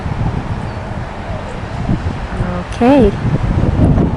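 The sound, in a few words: wind blowing outdoors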